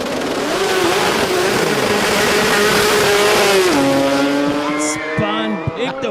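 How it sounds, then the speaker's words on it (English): An Australian sports compact drag car launches at a race meeting with a loud roaring engine that revs, shifts down and squeals its tires, with an announcer talking over it. "So let's watch the launch for Bill."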